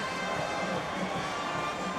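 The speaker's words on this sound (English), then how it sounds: "The crowd mobbing the floor." A volleyball crowd cheers and streams onto the court after Loyola's home win over BYU in an NCAA men's match, a steady dense roar of voices that holds at one level throughout.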